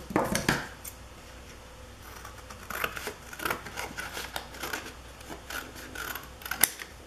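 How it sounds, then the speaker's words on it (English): Scissors snipping through paper while trimming a scrapbook layout with lace and eyelet details, a series of crisp close cuts in irregular bursts, with one sharp louder snip near the end. "So I'm just going to cut this much off of this side too."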